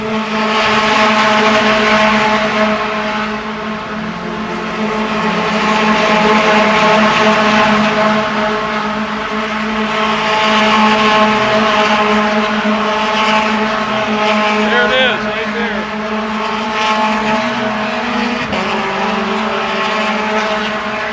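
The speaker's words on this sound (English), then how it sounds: "we want you to get a feel for what an active track sounds like while there is racing going on" Race cars roaring around an active racetrack during a Porsche motorsport event, a loud continuous engine drone with layered harmonic whines rising and falling as cars pass, sustained throughout with no talk.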